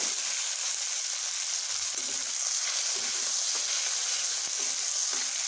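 Chopped tomatoes hit hot oil and tempered spices in a pan, giving a steady, close, bright sizzle with occasional stirring scrapes throughout and no voices.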